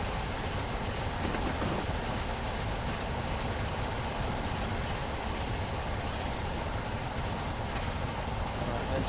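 Steam locomotive Flying Scotsman on a London to Brighton run, wheels slipping: a loud, steady, dense rumbling roar of machinery and rail noise running unbroken throughout, with no distinct beats standing out.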